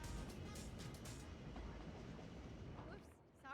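A train rolls past in a city-building game, a steady rumbling clatter of rail cars that runs throughout and fades near the end, with faint speech.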